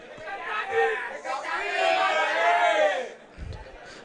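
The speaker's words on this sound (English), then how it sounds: "Crowd are going crazy for their home team, Paarl Gim" Spectators at a school rugby match in Paarl cheer and shout for the home side Paarl Gim, a broad, swelling roar of voices that rises and falls for several seconds before fading.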